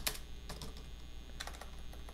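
Typing on a computer keyboard during English text editing: quiet, irregular clusters of key clicks in short bursts with pauses between them, close and alone with no talk.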